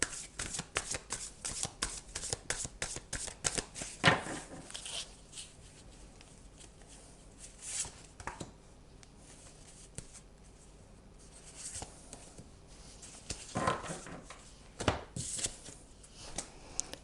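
Playing cards are shuffled and drawn, with rapid riffling flicks at the start followed by scattered quieter slides and snaps of single cards, close and soft, with no talking.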